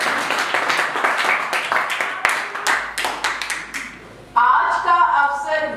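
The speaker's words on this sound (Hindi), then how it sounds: "तालियां बजाएं" Group clapping at a Rameshwar's IAS New Year 2022 celebration, with distinct individual hand claps in an uneven rhythm, fairly close, followed by louder mixed crowd noise and voices near the end.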